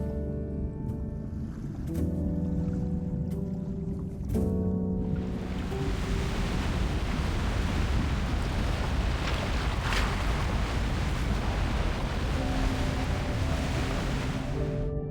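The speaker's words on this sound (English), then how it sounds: "It's the waves. They're just too strong." Strong sea waves surge in a loud, continuous wash of churning water and wind after a few seconds of soft musical tones, holding heavy and unbroken to the end with no speech.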